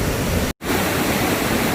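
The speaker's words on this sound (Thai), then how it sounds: "ตรงนี้คือจุดสูงสุดของน้ำตกนะคะ" Krimml Waterfalls in the Austrian Alps, heard from the top of the falls: a loud, steady roar of rushing water fills the whole range, broken by one very brief dropout early on, then resumes unchanged.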